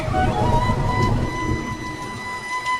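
Heavy rain pours steadily with a dense, hissing wash and a low rumble underneath, loud and continuous with no voices.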